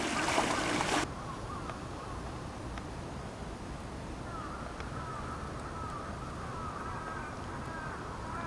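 A motor-driven water inlet whirs steadily in Shukkeien, a Japanese garden in Hiroshima, its hum and flowing water forming a continuous wash after a brief louder burst at the start, with faint birds calling in the distance.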